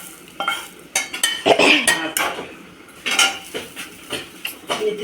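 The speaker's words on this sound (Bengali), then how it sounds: "তো এই যে দিয়ে দিচ্ছি এখন এই যে মিক্সির ভিতরে।" Ingredients being scraped and tipped into a mixer grinder jar, a series of sharp metallic clinks and knocks of spoon against steel in irregular bursts, close by, with no speech.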